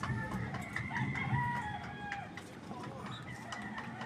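A Rhode Island rooster crows in a drawn-out, wavering call, with a second crow-like phrase following, while people talk nearby over a noisy outdoor background.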